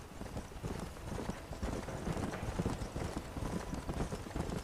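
Steady clip-clop of horse hooves in Red Dead Redemption at a brisk, regular pace, fairly close, with a faint background hum and no talking.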